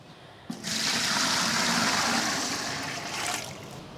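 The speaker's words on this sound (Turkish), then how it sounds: "Öncelikle suyumuzu dolduruyoruz. 12 litre su alıyoruz." Tap water pours steadily into a beer brewing machine, a full rushing flow that starts abruptly and runs on without a break while the vessel is filled with about 12 litres.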